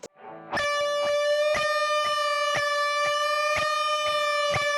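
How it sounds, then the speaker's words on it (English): Electric guitar through a Sansamp, playing a sustained harmony lead layer with a slight delay, steady repeated picked notes ringing on after a short quiet lead-in, close and clear, no talking. "Little harmony, tiny little delay on top"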